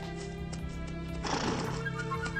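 An actor's voice imitates a horse's whinny for Samson the horse in the 1959 animated Sleeping Beauty, a loud neighing burst that rises midway over a steady orchestral music bed.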